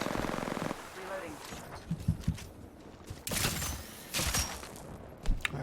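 Rapid bursts of gunfire in the video game Apex Legends, loud and close, arriving in several clusters with short gaps between volleys over a steady game background.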